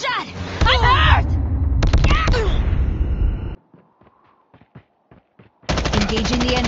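Gunfire in Call of Duty Mobile, loud bursts of rapid automatic shots in the opening seconds, a near-silent gap with a few faint clicks, then another burst of shooting at the end.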